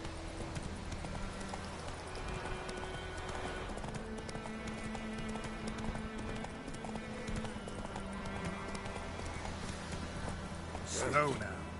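Roach the horse in The Witcher 3 with rhythmic hoof clip-clops, fairly close, under background game music and a voice, ending in a brief louder flourish.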